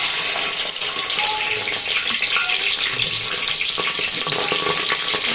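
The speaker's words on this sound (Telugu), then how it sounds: "నూనె ఎక్కింది, ఉల్లిగడ్డలు వేస్తున్నా." Onions drop into hot oil and fry in a pan for mutton fry, a loud continuous crackling sizzle with dense spitting hiss throughout.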